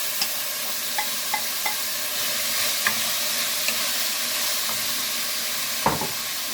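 Onions go into a pan to fry for pasta e fagioli, hissing in a steady sizzle with scattered crackles and a few clinks of stirring, close and continuous for several seconds.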